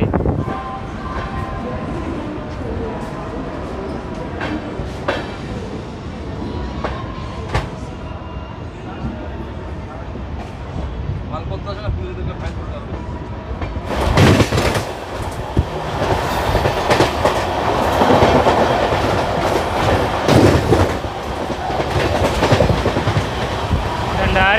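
Jammu Tawi Sealdah Humsafar Express rolling along the rails, a steady rumble and rattle of the carriages that swells louder partway through, with some voices underneath.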